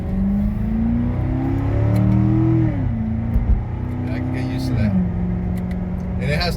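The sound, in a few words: Corvette C7 Z51 6.2 engine revving while driving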